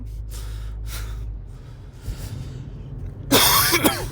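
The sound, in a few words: coughing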